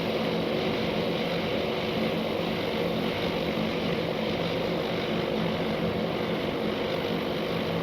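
Dive bomber aircraft engines climbing in the naval air combat game Task Force Admiral, a steady, droning propeller roar holding constant and fairly loud with no break.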